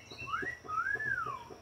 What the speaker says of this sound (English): Give me a whistle.